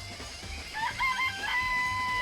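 Clucking chickens in the Danganronpa: Trigger Happy Havoc video game give a few short, bright squawks over a faint background hum, and no voice is heard.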